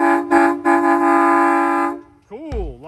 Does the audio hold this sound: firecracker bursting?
no